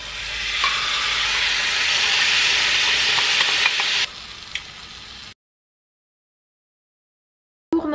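Tofu sizzles and fries in a pan with a loud, steady hiss that drops in intensity as marinade is added, then cuts to silence before a brief final sound.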